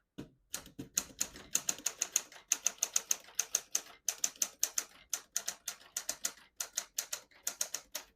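Steady, brisk clacking of a 1937 Corona Standard flat-top portable typewriter's keys in rapid bursts with short pauses, each strike crisp and close, a faint bell-like ping mixed in.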